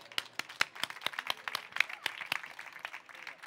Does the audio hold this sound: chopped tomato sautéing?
no